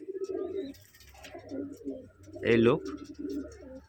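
White pigeons of the Madrasi breed coo in low throaty rolls close by, with one louder swelling coo in the middle, while someone speaks over and between them.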